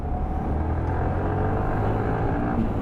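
A Yamaha R15-S motorcycle engine drones in a steady, close, low rumble while riding, with no distinct gear change standing out and no speech.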